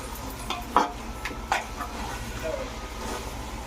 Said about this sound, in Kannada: ಚೆನ್ನಾಗಿ ಮಿಕ್ಸ್ ಮಾಡ್ಕೊಳ್ಳೋಣ ಅದು ಹಸಿ ಸ್ಮೆಲ್ ಎಲ್ಲ ಹೋಗೋವರೆಗೂ ಬಾಡಿಸ್ಕೊಳ್ಳೋಣ